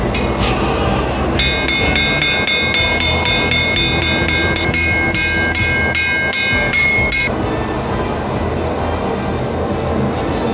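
Hard, rapid metallic hammer strikes on copper ring out close by over a steady roaring hiss from a gas forge, with bright sustained metallic resonance through the middle of the clip.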